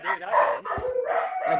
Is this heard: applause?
no